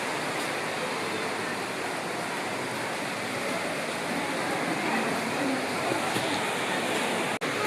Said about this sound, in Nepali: आज हाम्रो गोडामा पानी पसिरहेको छ